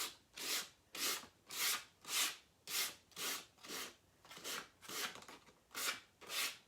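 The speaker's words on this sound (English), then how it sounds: "I'm going to take a little bit of sandpaper, just" Sandpaper rubbed back and forth over dried chalk paste on a cut-out, about ten even, regular scratchy strokes, close and fairly quiet with no talking.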